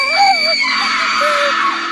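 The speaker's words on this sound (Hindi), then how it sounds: "शिवानी जोर से चिल्लाई," A woman screams loudly and shrilly as a horror sound effect, one sustained piercing cry with wavering pitch lasting the full two seconds.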